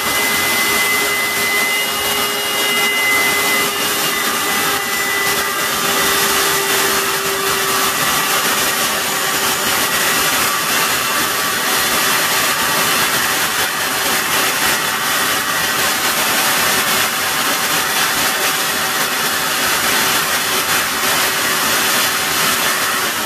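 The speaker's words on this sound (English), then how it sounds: "I ran that vacuum a little longer" A thermoforming vacuum former pulls a lure-painting stencil blank, its vacuum motor roaring steadily and loudly with an even whine for the whole stretch, no voices over it.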